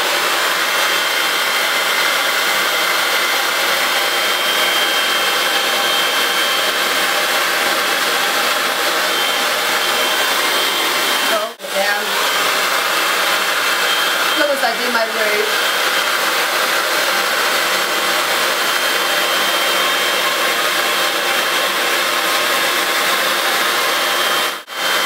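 A handheld hair dryer blasts steadily through a salon-style blow dry, a loud continuous broadband whoosh close to the mic, with a brief dip around the middle as it shifts position.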